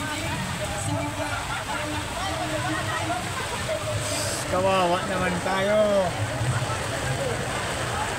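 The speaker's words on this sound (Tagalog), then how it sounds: "Malakas ang ulan dito sa Sawangan." Heavy rain falls on an outdoor political rally at Sawangan Park in Legazpi, a constant wash of hiss under someone talking through a loudspeaker.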